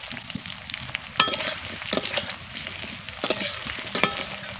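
Chopped potatoes fry with onion in a pan, a constant crackling sizzle punctuated by several loud clattering bursts of stirring against the metal.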